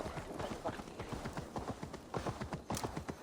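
Horse hooves clip-clop in a steady trotting rhythm in the game Assassin's Creed Valhalla, Wrath of the Druids expansion, moderately close and under faint ambient noise, with a brief whinny-like accent.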